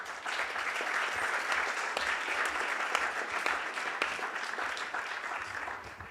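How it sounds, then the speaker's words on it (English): An audience at a startup pitch event applauds steadily and fairly loudly for several seconds, a dense wash of clapping that holds on its own without talk. "Give them a lot of love and applause."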